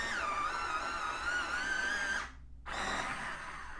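A brown ochre colored pencil is sharpened in a motorized sharpener, producing a loud, close, whining hum that wavers in pitch, cuts out briefly, then resumes.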